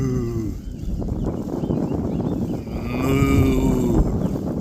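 Cows moo along a bike trail, with two drawn-out lowing calls, one at the start and a louder one after a brief pause, over rustling outdoor background noise.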